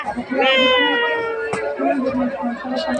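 A voice imitates a cat's drawn-out meow, rising and bending in pitch, amid the chatter of a busy trade fair crowd.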